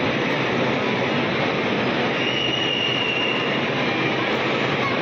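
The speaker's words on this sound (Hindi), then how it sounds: "ये देखिए ये ट्रेन है" A children's ride-on train runs through a shopping mall at Christmas, giving a steady loud rolling rumble with a thin wheel squeal that rises and fades, under a busy mall hum.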